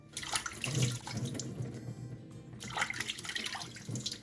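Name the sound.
washing sardines in running water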